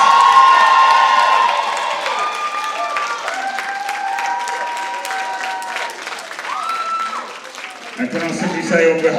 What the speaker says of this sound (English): can we actually give it a round of applause for all the finalists?